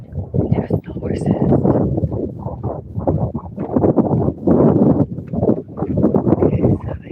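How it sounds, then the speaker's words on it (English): Horses walk along with hooves clip-clopping in an uneven, continuous rhythm, close and fairly loud, with people talking over the hoofbeats throughout. "There's the horses."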